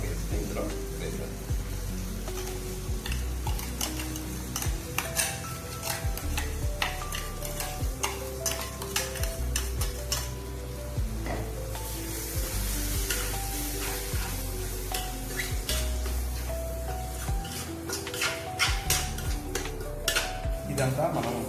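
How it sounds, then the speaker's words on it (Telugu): Masala paste frying in oil on a low flame for a hotel-style egg curry, a steady close sizzle with frequent scraping and stirring clatter of a utensil against the pan throughout. "ఇదంతా మనం లో ఫ్లేమ్లోనే వేపుకోవాలి."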